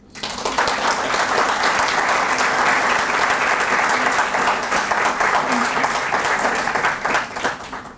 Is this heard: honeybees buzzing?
no